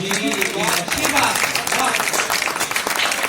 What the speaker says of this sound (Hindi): इसीलिए आपकी तालियां।